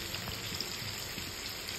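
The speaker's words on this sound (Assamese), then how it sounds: "আজি বৰষুণ দি আছে অলপমান" Light rain falling outside a village home, a soft, steady patter of drops on a surface, faint and continuous without voices.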